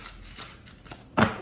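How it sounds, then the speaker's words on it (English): Tarot cards riffle and slide against each other in a soft, close shuffle, ending with a brief louder snap as the deck settles. "Just going to shuffle some more."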